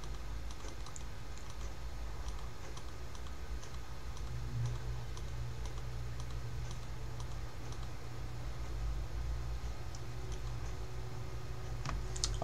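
Fingers type a name on a One Laptop Per Child (OLPC) laptop keyboard, giving a faint, steady patter of small clicks that goes on for several seconds over a low constant hum.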